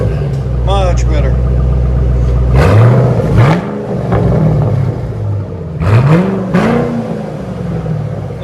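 A Ford Mustang engine idles, then revs up sharply twice with a throaty rising roar, close by, while people talk over it.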